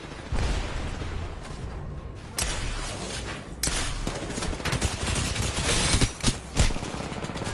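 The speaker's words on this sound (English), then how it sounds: "I just shot at him for 4 seconds and it wasn't registering" Video game gunfire rattles in continuous fast bursts, loud and close, with dense automatic fire broken by short gaps and a few heavier thumps near the end.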